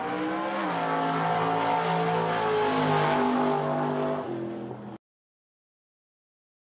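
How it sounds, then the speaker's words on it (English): A muscle car roars past at close range, its loud revving engine note falling in pitch as it goes by. Then it fades away, leaving silence. "the sounds of these muscle cars"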